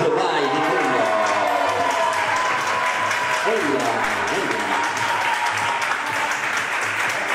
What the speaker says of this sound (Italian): Un applauso, vai.